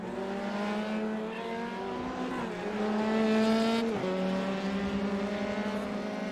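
Race cars in a Volkswagen Motorsport India racing series lapping a track built in 1988, engines droning loudly and steadily with pitch shifts as they accelerate and ease off, one car trailing another down the straight.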